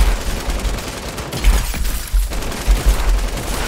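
Shotgun fire in Fortnite Season 4: loud, dense blasts and gunfire noise crowding the whole stretch, with heavier hits spaced throughout.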